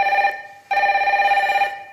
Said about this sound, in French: Allô, c'est le téléphone rouge qui sonne.